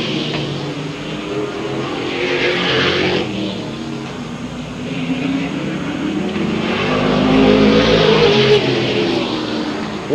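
Race cars lap a circuit in the closing laps of a race, their engine roar swelling and fading as they pass, a continuous loud drone with a broad sweep near the start and a louder pass toward the end.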